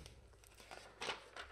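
A plastic Lego parts bag, numbered bag eight, crinkles softly in a few short rustling bursts, close and fairly quiet, with no talking.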